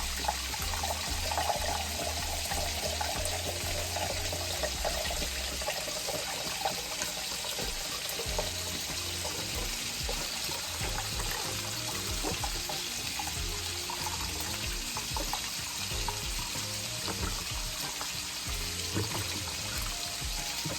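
Beef broth pours steadily into a pot to mix with gravy for an oxtail stew, a continuous soft liquid splashing with faint kitchen rumble underneath, no talking.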